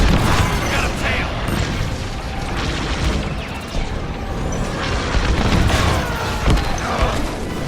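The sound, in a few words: starfighter bombers exploding in Star Wars Squadrons video game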